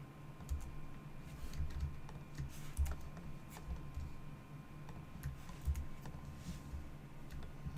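Keyboard shortcuts are typed on a computer keyboard during 3D modeling work, producing scattered soft key clicks in irregular bursts over a low steady background hum.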